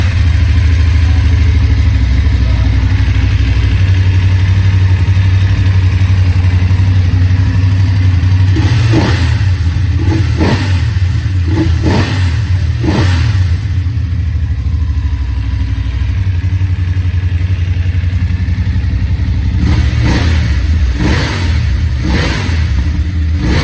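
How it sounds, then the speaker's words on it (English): A BMW F750GS motorcycle engine idles steadily up close, then is revved sharply several times in quick bursts before settling back to idle. "you can actually hear the bike running"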